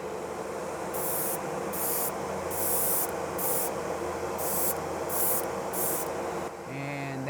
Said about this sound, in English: the best way to do that is to squirt some more shellac on there